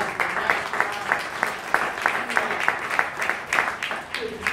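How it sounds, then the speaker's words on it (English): A conference audience claps in steady, fairly close applause throughout, distinct rhythmic hand claps forming a continuous patter with a bit of crowd murmur underneath. "a little round of applause"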